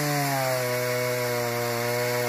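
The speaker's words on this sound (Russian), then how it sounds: "И вновь раздался шум пилы." A power saw runs steadily at high revs, a loud continuous whine with strong harmonics that holds without pause for a couple of seconds.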